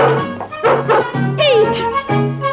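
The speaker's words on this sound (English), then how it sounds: "Oh, the puppies are here!" Cartoon puppies from Disney's 101 Dalmatians yip and bark in a busy cluster of high, excited cries and whimpers, loud and close, with no talk.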